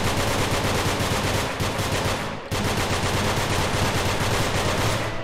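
Rapid, continuous automatic gunfire from shooting in the video game Nongunz, loud and dense, with a brief dip midway before the bursts resume.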